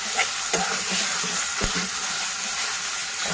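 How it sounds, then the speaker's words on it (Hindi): Blended mustard greens saag frying in hot oil for Sindhi-style saag, a steady close sizzle with occasional soft stirring knocks, no talking. "ऑयल हमारा गर्म हो चुका है। उसके बाद ये मैं ब्लेंड किया हुआ साग इसमें डाल रही हूँ।"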